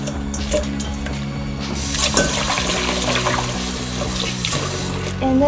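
Pasta cooking water pours out in a steady splashing stream, loud and close, with gurgling and trickling that swells midway and continues without talk.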